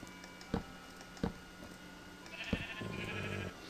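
Minecraft sheep in a survival game bleat faintly, three short separate calls followed by a longer bleat, without speech.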